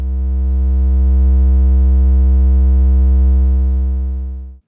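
A steady, buzzy Softube Modular VCO oscillator drone with a low fundamental and rich stacked harmonics, holding one pitch for several seconds before cutting off abruptly.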